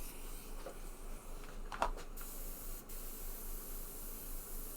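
A can of white spray paint hisses steadily at a low level, with a few sharp ticks and clicks from the can partway through.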